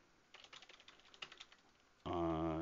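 Typing on a computer keyboard: a quick burst of soft, close key clicks lasting over a second, then a voice starts talking.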